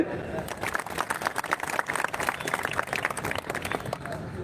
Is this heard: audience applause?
yes